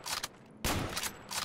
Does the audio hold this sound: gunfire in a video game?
yes